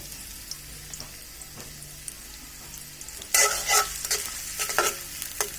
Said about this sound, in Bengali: এখন আমি যে পেঁয়াজ কুচিগুলো আছে তার মধ্যে দিয়ে দিচ্ছি